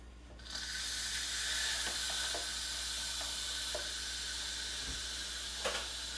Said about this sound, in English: Now we're releasing the pressure off of the Instant Pot.